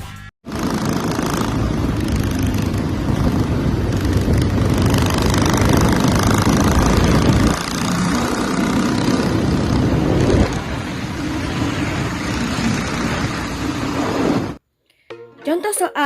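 A loud, rough motorcycle engine drones steadily with shifting revs and a brief dip midway, cutting off abruptly near the end.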